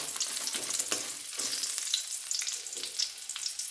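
Onions frying in a pan with oil for bottle gourd sambar, a steady close crackling sizzle with faint stirring scrapes throughout, no talking.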